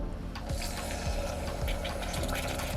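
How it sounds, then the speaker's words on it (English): Heavy cream pours into a bubbling pan for a deconstructed apple pie à la mode dessert, giving a steady liquid filling sound with soft popping bubbles, close up and moderately quiet, with no talking. "Time to add the heavy cream."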